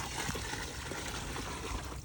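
Water splashes and trickles steadily while a home garden is being watered. The sound is soft and continuous with small irregular spatters, and no one is talking.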